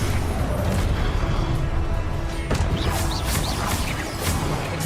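Fiery explosive spell detonating in the fantasy game Hogwarts Legacy, a loud crashing burst amid dense game noise with whooshing impacts and rumbling debris, no talk.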